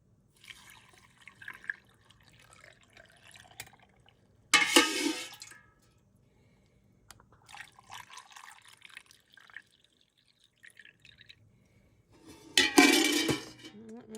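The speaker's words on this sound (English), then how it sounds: "then we're going to add our brine" Pickling brine is poured into jars of eggs in two bursts of close liquid splashing and gurgling, separated by quieter glassy clinks, drips and handling noises, with no talk.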